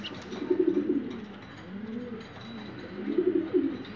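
Pigeons coo nearby in low, rolling, throaty phrases, two clear bursts of cooing separated by a short pause, against faint background hum.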